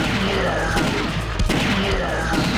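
Rapid gunfire from the arcade light-gun shooter The House of the Dead 2, a dense burst of loud shots running continuously with game noise and music behind it, a heavier blast near the middle.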